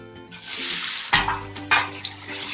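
Onions drop into hot spiced oil in a pan where brinjal is being cooked for achari baingan, setting off a sharp sizzle burst followed by a second, quieter splash of sizzling over a continuous hiss.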